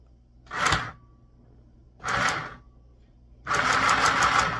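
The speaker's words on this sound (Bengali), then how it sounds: "আমি কিন্তু 600 রকম সেলাই হয়ে একটা মেশিন কিনেছি" A small sewing machine with 600 stitch types runs in three close bursts of rapid stitching, the last the longest, with quiet pauses between.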